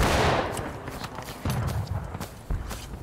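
Scattered musket volleys crack out in the Civil War video game War of Rights, a few sharp shots landing at roughly one-second intervals over a busy, low background.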